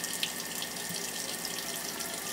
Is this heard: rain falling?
no